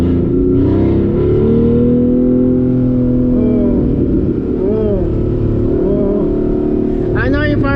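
A 2014 Porsche Cayman S engine burbling and revving from inside the cabin, a loud steady drone that rises and falls with throttle blips while someone talks over it.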